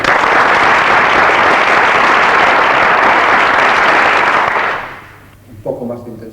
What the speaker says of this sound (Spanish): una mayoría constituida por el respetable público prorrumpirá en estruendosos aplausos